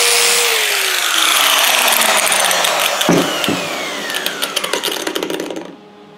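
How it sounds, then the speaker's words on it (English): An angle grinder with a flap wheel spins up and grinds galvanized steel down to bare metal, a loud close whine that shifts pitch under load, then spins down with rattling taps before stopping. "I'll grab a flap wheel, get the angle grinder going, and I'm going to clean around the edges"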